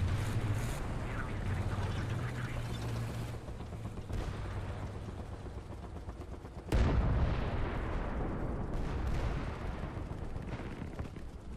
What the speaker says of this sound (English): I think I hear some shooting going on over here